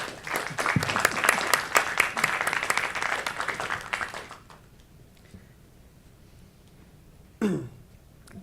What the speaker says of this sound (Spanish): Por favor, un voto de aplausos para la OCDE.